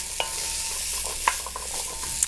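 Vegetables sauté in a pot for vegan sweet potato and kale soup, a steady sizzle broken by a few sharp stirring clicks and scrapes of a utensil, close and moderately loud with no talking.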